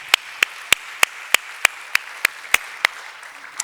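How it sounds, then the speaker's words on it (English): Applause at a YMCA World Council gathering comes as a steady, evenly spaced run of about a dozen sharp, close claps, loud and regular with no voices. "A round of applause for all of you."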